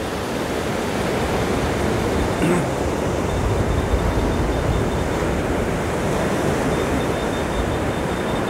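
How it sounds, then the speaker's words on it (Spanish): Pacific Ocean surf breaks and washes over the pebble beach at La Libertad, El Salvador, a steady, dense roar of water and rolling stones that fills the whole stretch without pause. "Esta es la costa del Océano Pacífico."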